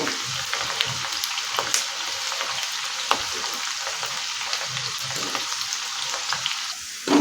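Onion fries in hot oil in a pan for veg biryani with a continuous, close, crackling sizzle, light stirring and the odd pop. No voices are heard.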